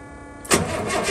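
A truck engine turning over in cold weather: a steady cranking drone, then the engine catches with a sudden loud roar about halfway through and keeps running rough and close, with no talk.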